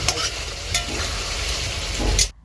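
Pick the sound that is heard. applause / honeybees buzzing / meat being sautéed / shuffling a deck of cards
meat being sautéed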